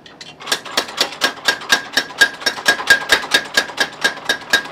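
Steady, rhythmic hammer blows fall on hot laminated steel as a blacksmith forges a knife blade straight from an 800-degree furnace in Sakai. Roughly twenty sharp metallic strikes ring out close and loud at an even pace, with no talking.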